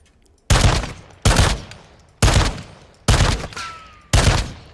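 An MX Guardian shotgun fires in a video game: five loud, close blasts about a second apart, each with a sharp crack that rings out and fades before the next shot.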